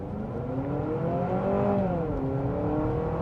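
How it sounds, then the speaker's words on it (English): A 2026 Honda CR-V Hybrid Sport Touring pulls away from a stop in sport mode. Its close, steady engine hum climbs in pitch, then settles, with no voices. "We can try one out off the line right over here in sport. Off the line, on the gas."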